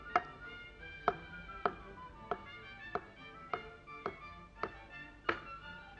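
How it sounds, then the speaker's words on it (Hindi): A knife taps down on a cutting board in steady, evenly spaced chops, slicing boiled potatoes, about nine cuts, close and crisp in a quiet room. "उबले हुए आलू के स्लाइसेस कर दें आप"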